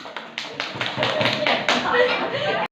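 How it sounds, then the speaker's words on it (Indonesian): Classroom children clapping hands together in a short burst of sharp, uneven claps that build into a busier patter, with a voice and chatter mixed in, all cut off abruptly. "Tepuk tangan."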